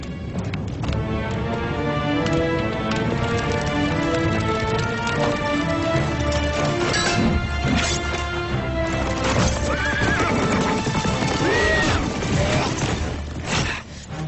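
A horse whinnies loudly as hooves clop steadily, amid a busy, noisy scene with commotion in the background.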